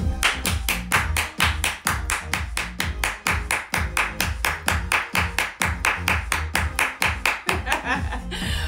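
Loud, rapid hand clapping in a steady, brisk rhythm, close up and continuous for about eight seconds with no other sound.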